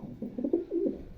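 Close, low cooing from a male Kasban racing pigeon: a few rolling throaty pulses over about a second, heard alone without speech.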